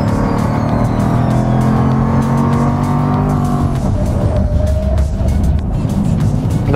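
Jaguar F-Type sports car accelerating hard on an open road, heard close and loud. The engine roars and rises steadily, then shifts to a rougher tone partway through, with tire and road noise underneath.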